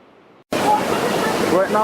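After a brief silence, a loud, steady roar of rushing water from a nearby waterfall near Rishikesh, India, with a voice speaking over it.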